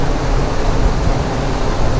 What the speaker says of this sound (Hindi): आप लोगों को अब यहाँ पूरी आवाज पानी की एक एक सुना रही होगी